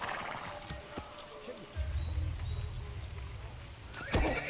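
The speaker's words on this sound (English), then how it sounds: "O cavalo anda devagar." A horse in Assassin's Creed Brotherhood whinnies loudly up close, with a run of clip-clopping hooves, and a voice talks briefly over it near the end.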